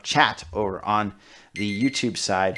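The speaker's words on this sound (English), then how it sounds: "And that is our alarm telling us that it's 5 o'clock." An alarm clock goes off with a steady high electronic beeping tone that runs beneath continuous talk during a live broadcast.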